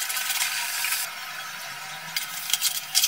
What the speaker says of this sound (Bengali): এবার সব কিছু ভালো করে মিশিয়ে একটু কষিয়ে নেব